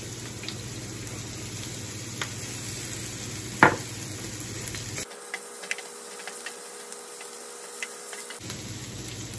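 Onion and ginger-garlic paste fry in a pan with a constant soft sizzle, a sharp clack of a utensil against the pan, and a few seconds where the low sound cuts out before the sizzle resumes.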